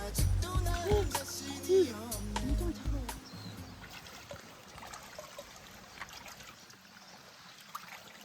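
Water from a mountain stream trickles and flows steadily throughout, with a person talking briefly near the start before the steady running water continues alone.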